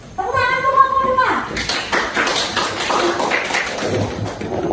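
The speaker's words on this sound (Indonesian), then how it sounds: "Tepuk tangan untuk kelompok 2." Classroom applause for a student group, scattered claps and taps rising after a voice, with children's chatter and speech mixed throughout, close and fairly loud.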